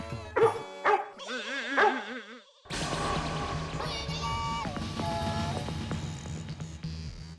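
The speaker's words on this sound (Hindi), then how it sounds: "इनको देख के भौंक क्यों रहा है?" A dog barks and yelps in short bursts up close, followed by a steady musical background with layered tones.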